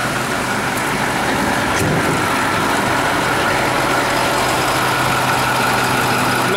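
A 2013 Starcraft XL 32-passenger bus with its 220-horsepower diesel engine idling, a loud, steady low rumble with constant mechanical drone close by, no voices.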